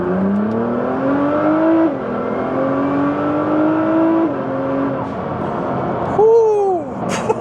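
A Nissan GTR engine revs up in repeated climbing pulls, each rising whine dropping back before the next, loud and close, with a final sharp blip at the end.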